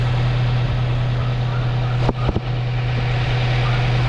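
A Mazda 3 engine idles on a cold start with a steady low hum and rumble, close and constant, with a brief dip and a couple of soft knocks midway.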